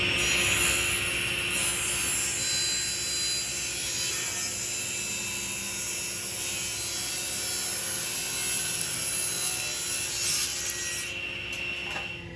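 Table saw ripping a narrow wooden board held in a thickness jig, a steady loud whining cut that runs continuously and eases off near the end.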